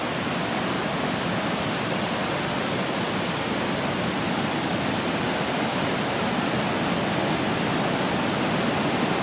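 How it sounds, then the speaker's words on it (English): At the top of a waterfall, a river rushes hard down through the woods, a loud, unbroken roar of churning water that stays steady the whole way with no voices. "You can see the river coming down through the woods there. It's just flowing hard."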